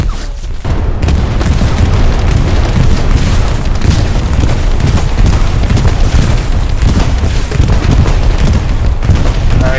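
Bomb explosions boom without pause in the Hell Let Loose World War II shooter, a loud, dense barrage of heavy blasts and rumbling impacts that fills nearly ten seconds alongside scattered gunfire.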